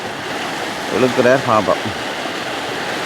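Fast-flowing river water rushing during Cyclone Ditwah in Sri Lanka, a steady broadband roar that runs throughout while someone speaks over it in the middle.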